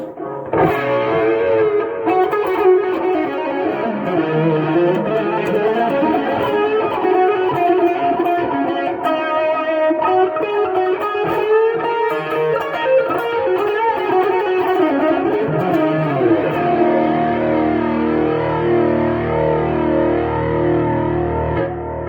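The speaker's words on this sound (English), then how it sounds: "in a similar way you can add different delay settings as well as reverb settings" Electric guitar played through a SONICAKE multi-effects pedal with delay and reverb, heavily processed and distorted chords ringing with echoing repeats and washy tails, loud and continuous with no talking.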